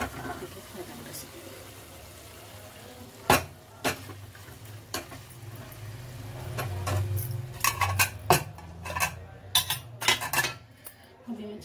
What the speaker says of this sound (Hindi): अभी मैं चावल चला रही हूँ